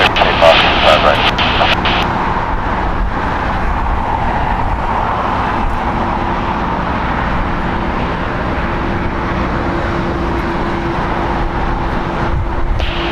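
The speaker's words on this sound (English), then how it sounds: "American 2, runway 25 right, clear for takeoff" A jet airliner taking off from runway 25 Right at Los Angeles International Airport, a steady loud engine roar holding through the whole stretch, mixed with distant traffic hum.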